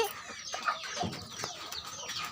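Chickens cluck in short, overlapping bursts close by, a busy, continuous scratchy texture of fowl calls at moderate volume.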